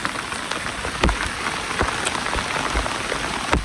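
Heavy village rain pours down in a dense, even hiss, with occasional louder drops tapping close by.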